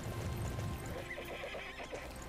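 A horse in the video game Dynasty Warriors 9 gives a loud, close whinny with clip-clopping hooves, alone with no talking.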